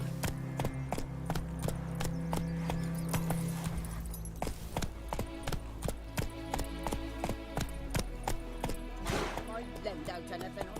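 Horse hooves clip-clopping in the video game The Witcher 3, a steady trotting rhythm of close hoof strikes under game music and ambient sound, with a voice speaking briefly.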